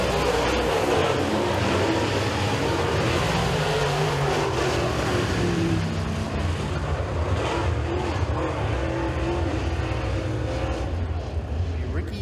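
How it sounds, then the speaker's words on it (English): Super Late Model race cars at Eriez Speedway during a heat race, a dense continuous engine roar with rising and falling pitch as cars sweep past, steady and loud throughout. "Bumpy's going to sail it into turns 3 and 4 and pick up the victory in the third and final heat race for the Mill Run Collision Center Super Late Models."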